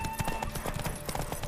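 Horse hooves clip-clopping in the video game The Witcher 3: Wild Hunt, a quick rhythmic run of close, distinct hoofbeats with some background game ambience.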